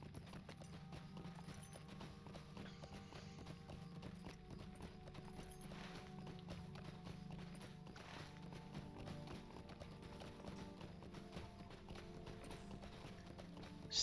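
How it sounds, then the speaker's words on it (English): A mount in the game Lord of the Rings Online trots on with steady, rhythmic clip-clop hoofbeats, faint and even throughout, with a quiet low hum underneath. "So hop on your mount, and let's go."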